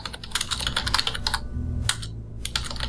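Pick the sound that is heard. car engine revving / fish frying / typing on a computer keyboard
typing on a computer keyboard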